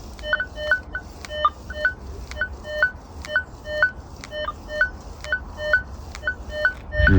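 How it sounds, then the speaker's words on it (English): A Tarsacci MDT 8000 metal detector in mix mode chirps repeatedly over iron, a rapid run of short bright electronic tones in a regular pattern, with a brief low thump at the end. "Now let me put the mode in mix so you can hear all the iron."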